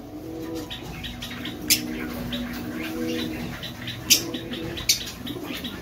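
Full-size Kalpetia getup fancy pigeons coo softly in a low murmur while a few sharp wing flaps burst out, three distinct flutters at different moments, close and clear against a quiet background.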